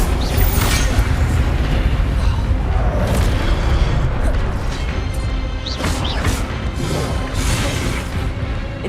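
Incendio fire spell cast in Hogwarts Legacy, heavy booming bursts and crashing blasts over a dense roaring rumble, loud and close, with a voice partly mixed into the din.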